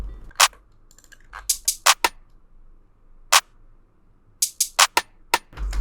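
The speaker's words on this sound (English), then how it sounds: "Then added this rim right here." Sharp rim drum sample in an FL Studio trap beat, crisp clicky hits landing in a syncopated pattern with a deep bass thump underneath, close and dry with gaps between groups of strikes.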